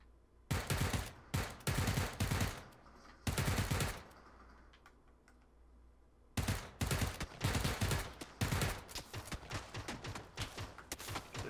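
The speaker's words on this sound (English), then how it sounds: "They're shooting at me." Gunfire in the video game PUBG: repeated bursts of rapid automatic shots, loud and close, with a short pause partway through before the shooting resumes.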